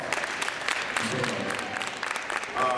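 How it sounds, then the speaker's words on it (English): Applause from a school audience at a motivational hip hop show, a moderate wash of clapping with scattered sharp claps, a faint voice and some tonal sound mixed in at the end. "another round of applause"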